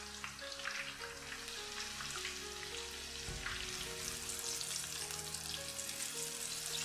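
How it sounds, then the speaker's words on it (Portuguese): Jiló slices fry skin side down in a pan, giving a steady, close, even sizzle that carries on without break and with no voices. "Colocar a casca para baixo, né? E deixar fritar bem."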